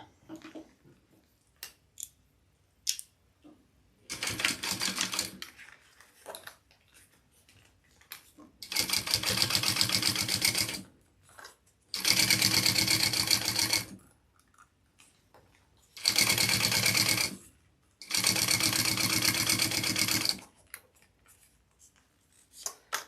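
A sewing machine top stitches a backpack in five loud mechanical bursts, each running a second or two and separated by quiet pauses.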